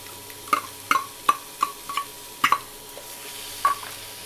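A spoon stirs crab coated in ground masala paste in a pan for a thick nandu kuzhambu, about eight sharp scraping taps at an uneven pace over a faint sizzle, with no talk.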